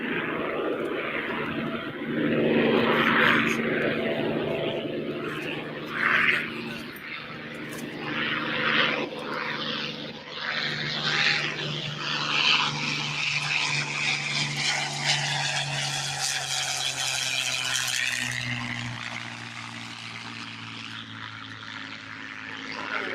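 Propeller and jet aircraft arriving to land on the runway at the Oshkosh airshow, their engines droning steadily and swelling as one passes nearer, with a rising roar near the end and no talk.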